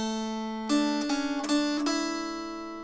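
Plucked mountain dulcimer strings pick out a short melody from "Leaning On The Everlasting Arms" over a steady droning tone, with several distinct note changes ringing on, close and clear.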